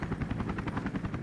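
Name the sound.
helicopter in the video game 007 Agent Under Fire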